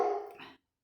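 A dog gives a single short bark, a fairly faint, brief yelp from a distance that cuts off quickly into silence.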